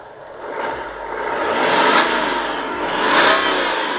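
A BMW 335d diesel revs up to 5,000 RPM twice, each rise swelling loud and close with a rough whirring drone before easing back down.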